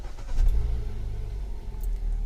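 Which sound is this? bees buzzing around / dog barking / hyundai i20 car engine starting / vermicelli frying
hyundai i20 car engine starting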